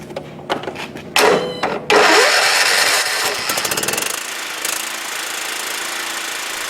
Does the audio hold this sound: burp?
no